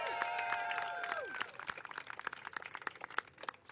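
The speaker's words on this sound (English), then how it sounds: "Can we have a round of applause?" Applause from a crowd gathered at a ribbon cutting for ten newly resurfaced professional-grade tennis courts in a city park, scattered outdoor clapping that builds and continues steadily after a speaker's voice trails off.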